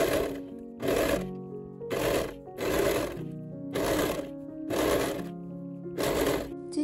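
A sewing machine finishes the raw edges of a garment in repeated short bursts of rapid stitching, seven runs separated by brief pauses, close and clear.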